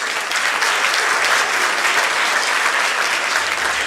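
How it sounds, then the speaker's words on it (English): An audience at a TV industry forum applauds panelists continuously, dense steady clapping from many hands at even loudness throughout. "Can you please give a round of applause to my panelists?"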